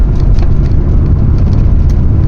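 A vintage VW T3/T25 van with a small engine coasts downhill in fourth gear on the A537 Cat and Fiddle road, giving a loud steady drone of engine and road noise close inside the cabin.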